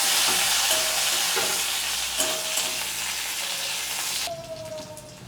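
Thin-cut potato strips drop into hot oil with browned garlic in a pan, a loud bright sizzle with scraping stirs and clinks from a utensil against the pan, the hiss easing slightly as it goes on.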